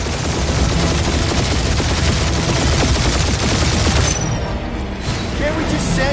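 Dense, continuous gunfire from a firefight in Marvel's Guardians of the Galaxy fills the whole stretch, loud and close, with booming hits and voices talking over it.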